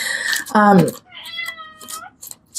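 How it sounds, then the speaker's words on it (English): A cat meows several times up close, drawn-out and tonal, with a brief breathy sound before the first call. "Can you hear my kitty?"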